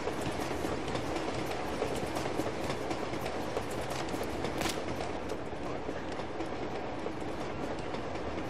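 Moving train wagons in the video game Uncharted: Among Thieves give a constant loud rumble with rapid clickety-clack of wheels over rails, steady throughout and without talk.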